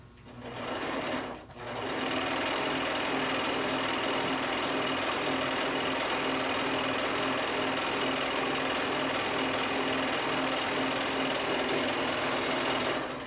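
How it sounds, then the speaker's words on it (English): A serger runs steadily through fleece while sewing a fat-quarter tote, its loud, continuous high whir starting after a brief pause and holding unbroken to the end. "when I was serging with the fleece up"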